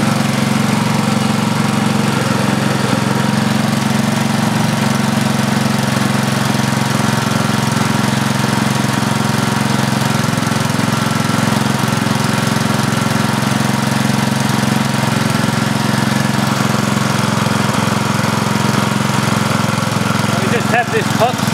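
Gen E electric motor running on an inverter at about 15 volts while lighting a 60 watt bulb, a loud, steady mechanical hum and drone throughout the whole stretch with no pauses.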